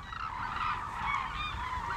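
Flock of hooded cranes calling at the Suncheon Bay wetland, many overlapping honking and trumpeting calls heard at a distance over a steady background, with no talking.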